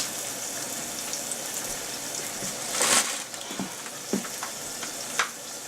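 Spinach cooks in a pot with a steady, close sizzle and hiss, broken by a louder burst of steam and a few clinks and scrapes from stirring.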